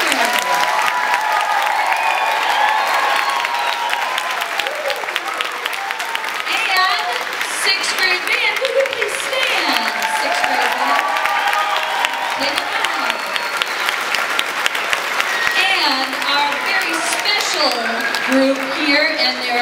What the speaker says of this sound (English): how about we have another round of applause for our singers?